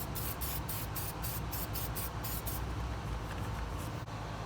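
Battery terminal protector sprayed onto the terminals and cables of a 2015-or-later Ford F-150 battery, a series of quick, close aerosol hisses in short bursts over the first half, then a quieter background.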